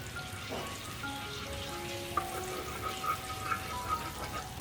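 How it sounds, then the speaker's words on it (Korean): Gochujang sauce with oligosaccharide syrup and mirin boiling in a pan, a steady soft bubbling and crackle throughout with faint light pops, close and fairly quiet. "올리고당, 맛술 넣어서 바글바글 끓여주세요"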